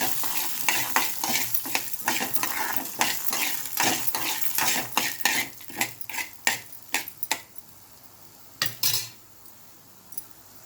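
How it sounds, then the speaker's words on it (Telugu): Spices and peanuts fry in oil in an Indian kitchen, sizzling under a rapid run of spoon scrapes and clinks against the pan that thin out and stop near the end. "కొంచెం ఆయిల్ వేసుకున్నాం దినుసులు అన్నీ వేసి మంచిగా వేపుకోవాలి"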